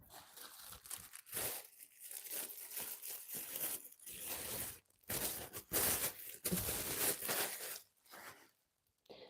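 Close, steady crinkling and rustling of a plastic bag being handled, with brief pauses between bursts of crackle.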